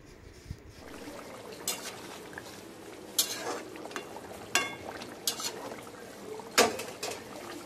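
Soft scraping and clinking of a spatula as katla fish is stirred into curry in a pan, with a few sharper metallic taps spaced irregularly over a low bubbling background.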